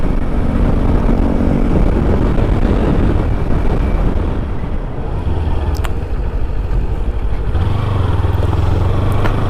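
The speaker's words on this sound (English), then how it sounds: "I am riding to the nearby national highway where I will check the top speed of this motorcycle" An eight-year-old Kawasaki Ninja 300 motorcycle on the road toward a national highway, its engine droning loud and continuous with steady wind rush and a slight shift in pitch partway through.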